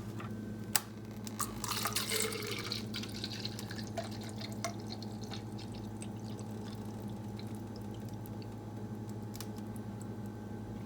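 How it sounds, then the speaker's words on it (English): Water shaken out of a DAVIDsTEA Matcha Maker, a brief burst of splashing and dripping near the start, followed by scattered small drips over a low steady hum. "you can shake some of this water out"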